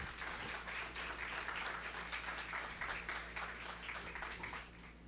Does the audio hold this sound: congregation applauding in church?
yes